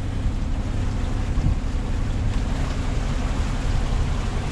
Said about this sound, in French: Donc le moteur, l'hélice qui tourne.